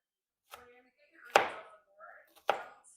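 A knife chops paneer bhurji ingredients on a cutting board in three sharp, unevenly spaced strikes, close and distinct against a quiet kitchen, with no talking.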